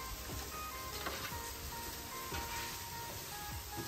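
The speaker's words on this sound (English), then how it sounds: "A little bit of shallow fry." Fish shallow-frying on a griddle gives a continuous, fairly quiet hiss and crackle of oil, steady throughout with faint small pops and no talk.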